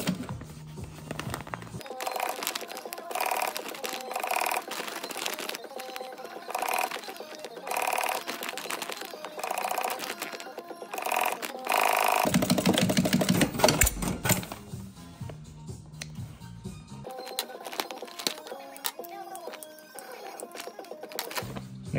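A sewing machine stitches fabric for a homemade 7-litre roll-down waterproof drybag, running in long steady mechanical runs with rapid needle chatter, briefly speeding up and then slowing, close and fairly loud.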